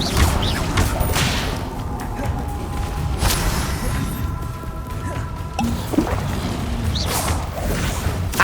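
Spell effects from Hogwarts Legacy fire in quick succession: whooshes, crashing bursts and thuds over a busy, loud backdrop of combat noise.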